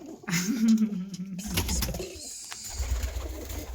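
Young pigeon or dove chicks in a village coop give a short rising cooing call followed by soft, rough chirps and rustling, close and fairly loud.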